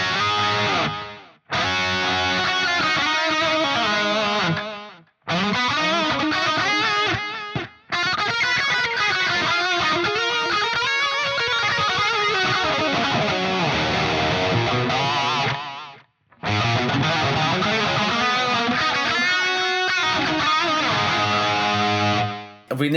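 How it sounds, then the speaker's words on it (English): Electric guitar run through a delay effect on an Axe Fx III, sustained distorted chords ringing with smeared repeats that cut off abruptly in several gaps, loud and alone without talking. "So now when I play, obviously the release of that delay is going to come down"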